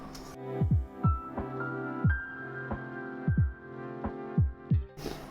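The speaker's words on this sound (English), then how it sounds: "and then we whisk these up" A whisk beats brown sugar cake batter for steamed sponge cake, knocking rhythmically against the bowl in soft, regular thumps about twice a second. A steady hum runs underneath, and no one speaks.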